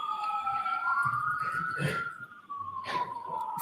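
A police siren wails with a gliding, sweeping tone, steady and fairly loud over a low background rumble.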